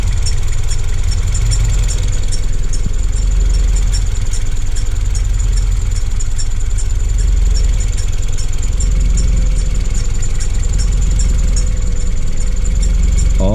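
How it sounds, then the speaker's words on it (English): A car engine runs at a steady loud idle, with a continuous high whine and faint rhythmic ticking from a noisy belt tensioner over a low rumble. "Definitely sounds like that tensioner."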